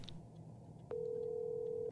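Telephone being dialed in the horror adventure game Lust From Beyond, a short click followed by a single steady tone that holds to the end, fairly quiet and with no voices.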